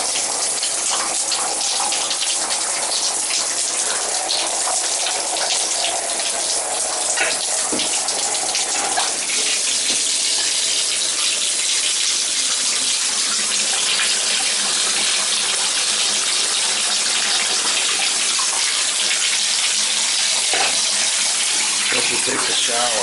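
A shower in an upstairs tub runs above a ceiling with a small leak, giving a steady, dense hiss of falling water that continues unbroken throughout.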